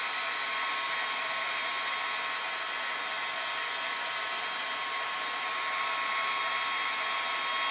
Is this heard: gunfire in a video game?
no